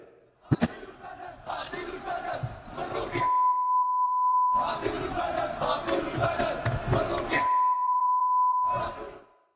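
Algerian football fans chant loudly in a stadium crowd at the Africa Cup opening ceremony, a dense roar of massed voices. Steady beep tones cut in over parts of the chanting, and a sharp bang sounds near the start.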